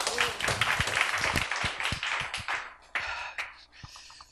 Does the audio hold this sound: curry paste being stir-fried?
no